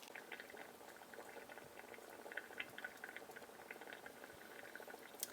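Turkey chili simmering in a pot gives a steady, soft bubbling and popping, continuous small blips of thick liquid, close and quiet with no voices.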